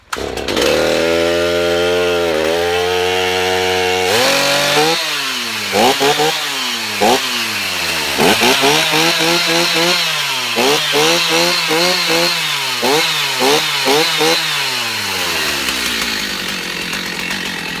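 A Stihl 029 chainsaw idling on half choke, loud and close, its engine note swooping up and down in repeated revs and surges throughout with no voices.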